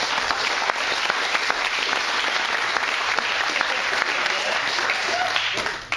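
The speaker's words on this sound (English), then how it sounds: "Give these guys a round of applause." A crowd applauds at a sport kart grand nationals press conference, with continuous, even clapping that fades out near the end.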